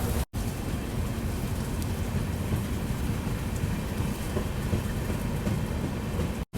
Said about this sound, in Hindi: जननी रणकपुर एक्सप्रेस का डिपार्चर हो रहा है बढ़िया बारिश के साथ